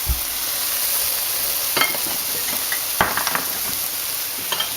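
Spanish paprika being stirred in a sizzling pan, with a steady frying hiss and a few soft spoon scrapes and taps against the pan.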